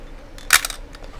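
A Pentacon Praktica LLC film SLR fires its shutter in flash mode: a single sharp mechanical click near 0.5 s, heard up close over a quiet background.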